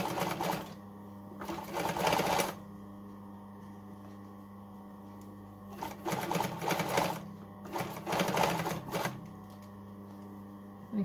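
A roughly 40-year-old semi-industrial sewing machine top stitching hoodie hood panels, running in three bursts of rapid mechanical whirring and clatter separated by quiet pauses, close and moderately loud over a low steady hum.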